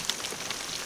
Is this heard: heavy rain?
yes